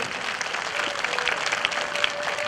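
Audience clapping steadily for army men at a Patel Samaj community gathering, a dense, continuous applause that stays even in level throughout.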